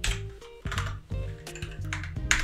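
Close, crisp typing on a computer keyboard: a quick run of sharp key clicks and thuds in an irregular rhythm, heard on its own without talk.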